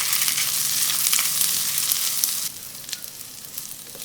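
Rice fries in a pan with egg and meatloaf being stirred in, a loud, close sizzle that drops in intensity after a couple of seconds, with occasional scraping from the spoon and no speech.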